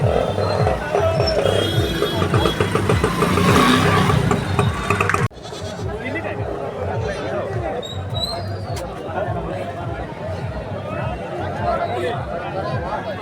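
Goats and sheep bleat at the busy Vadgaon weekly livestock market in Kolhapur, scattered calls under crowd bustle and someone talking close by.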